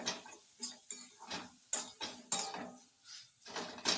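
A spoon scrapes and clinks against a pan while stirring a spiced green pea filling made with garlic and green chili paste, giving irregular, close-up taps and knocks with quiet gaps between them.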